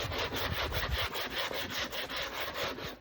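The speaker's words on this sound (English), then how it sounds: "I'm just sanding the fibers down" Sandpaper rubs back and forth over wood in a steady, rhythmic scrape, close up with quick repeated strokes and no voices.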